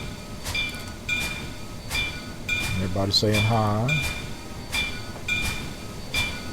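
A train rolls past on the Saluda grade railroad, the steepest railroad grade, with a steady wheel clatter and a regular clicking beat close by, while someone talks over it partway through.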